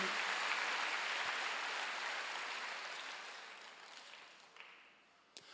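Church congregation clapping during a Wednesday worship service, a broad continuous wash of hands that is fairly faint and gradually fades, with a couple of sharp knocks near the end.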